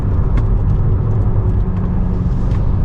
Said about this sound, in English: Ooh, the turbo sound is quite nice.